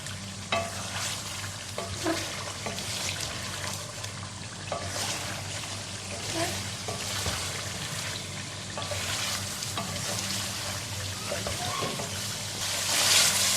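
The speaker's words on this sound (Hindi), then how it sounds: "अब इसको अच्छी तरह से भून लेंगे हम" Chicken korma with spices frying and being stirred in a pan, a steady close sizzle with scraping stirs throughout, a few soft knocks, and a brief louder burst near the end.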